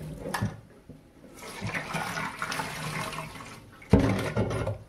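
Rice is swished and rinsed by hand in water for an Odia dinner, with continuous close sloshing and splashing that swells into a stronger surge of water near the end.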